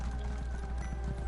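A horse running in the video game Elder Scrolls Online, its hoofbeats a steady rhythmic clip-clop thudding low and close, continuous with no talk over it.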